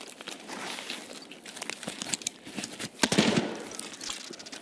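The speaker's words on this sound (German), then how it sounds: "Schüsse." Gunfire in the Escape from Tarkov video game: a series of sharp, fairly faint distant shots cracking irregularly over quiet background, with one stronger burst near the middle.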